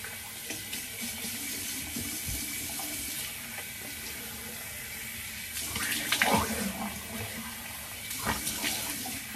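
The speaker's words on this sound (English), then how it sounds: "now I'm gonna rinse off with cool water" Cool tap water runs steadily into a sink for rinsing after a shave, a continuous hiss with a few louder splashes and gurgles partway through.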